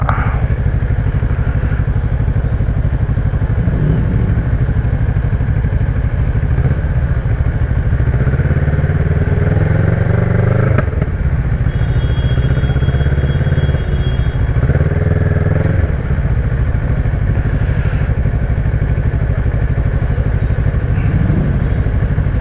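A motorcycle engine in London traffic runs loudly and close throughout, a steady throaty drone with occasional clatters and thumps.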